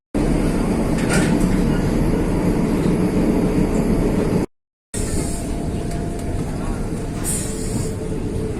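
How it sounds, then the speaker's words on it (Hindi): Steady rumbling roar of a train travelling through mountains, loud and continuous, broken by a brief gap before the same rolling noise resumes with faint higher hiss and clatter. "पहाड़ों में ट्रेन जर्नी।"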